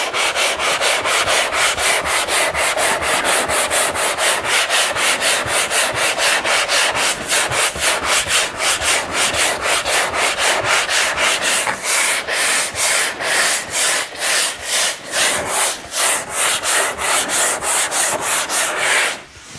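Hand sanding with 80 grit sandpaper: loud, rough back-and-forth scraping strokes in a fast, steady rhythm that runs continuously and loosens slightly toward the end.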